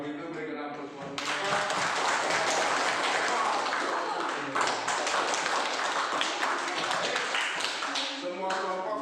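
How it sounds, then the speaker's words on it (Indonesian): A classroom group claps for the presenting group, a burst of dense, close applause that starts suddenly, holds steady for several seconds, then fades as a voice returns. "Kalau begitu berikan aplaus buat mereka"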